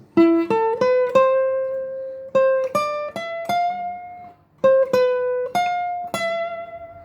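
An acoustic guitar picks out a slow melody, single plucked notes ringing in short phrases separated by pauses, played alone.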